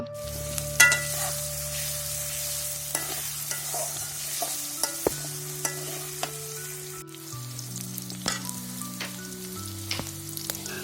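Chopped green chilies, onion and garlic sizzling in soybean oil in a pan, a steady close frying hiss broken by frequent clicks and scrapes of stirring, with faint tonal background hum and no speech.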